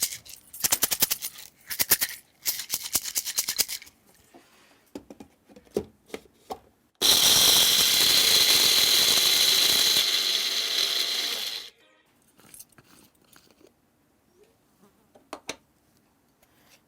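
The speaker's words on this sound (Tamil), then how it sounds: "இப்போ நீங்கள் வந்து சாம்பார் பொடி அரைக்கிறீங்க" Mixer grinder grinding sambar powder spices, a loud steady whirring roar lasting about five seconds in the middle, surrounded by quieter clattering and handling knocks before and after.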